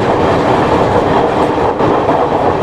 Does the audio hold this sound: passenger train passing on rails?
yes